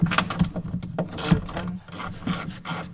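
A ratchet wrench with an extended 10 socket works a bolt loose on a Lexus RCF trunk, giving close, uneven rasping clicks and scraping bursts in short irregular strokes, with no talking.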